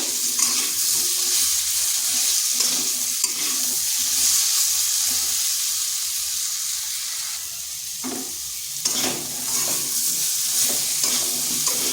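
Steady oil sizzle from pumpkin frying in a wok, with repeated scraping and stirring strokes throughout; no talking.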